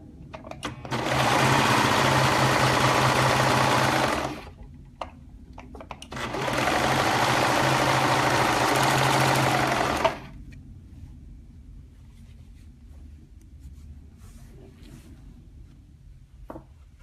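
A serger sewing machine runs in two loud, steady bursts of about three and four seconds, separated by a short pause, then stops, leaving faint clicks and handling noise.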